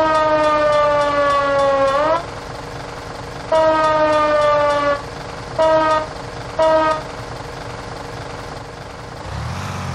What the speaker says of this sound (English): It's much more fun with the siren on, Phelps.